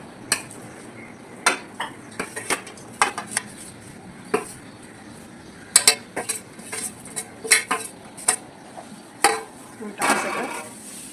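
Modak filling with jaggery sautéed and stirred in a pan, a busy run of sharp metal spoon clanks and scrapes against the pan, uneven in rhythm, close and fairly loud.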